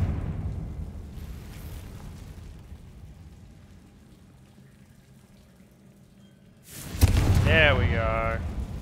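The Confringo fire spell explodes in a Harry Potter video game, a sudden loud boom at the end that swells into a roaring, crackling burst with a ringing magical shimmer, after quieter talk and ambient sound.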